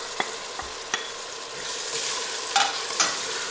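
Tomato and green chili fry in a pan for urad dal, with a soft steady sizzle broken by a few sharp spoon scrapes and clicks, close and without talk.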